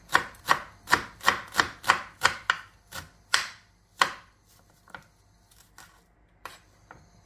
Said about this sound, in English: So next I'm going to chop the onions, and I'm cutting them into rings